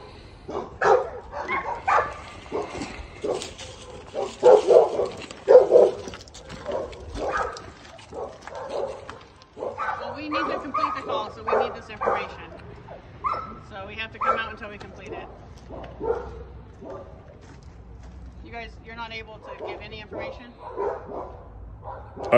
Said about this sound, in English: and there's another dog over there